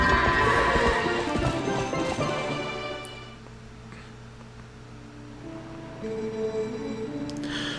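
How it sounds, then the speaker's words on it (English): Horse hooves clip-clop rapidly at a gallop while riding in the video game Zelda Twilight Princess, loud at first over game music, then fading to a quieter musical stretch near the end. "Ooh, way to ride, Link"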